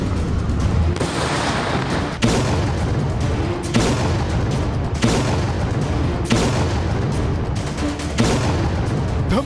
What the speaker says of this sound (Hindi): धमकी का जवाब धमाका।